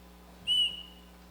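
A single sharp whistle blast is blown on stage during a high school spring performance of The Sound of Music, short and piercing against a quiet hall hum.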